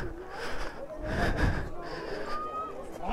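Heavy, repeated panting from a person out of breath after climbing up to a hilltop viewpoint on a motorcycle trip to Kodaikanal, with several close breathy gasps across the span.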